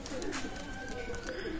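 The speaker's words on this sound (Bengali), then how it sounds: "মাশাল্লাহ র ব্লাড লাইনের টেডি কবুতর ক্রয় করুন।" Teddy pigeons coo in soft, low repeated calls close by, over a constant background hum.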